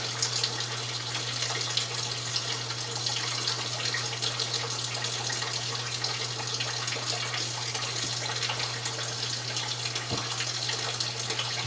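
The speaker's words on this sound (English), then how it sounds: "I've got water filling up that big container that I mixed the dressing up in." Water runs steadily from a tap into a container, a continuous splashing rush over a low, constant hum.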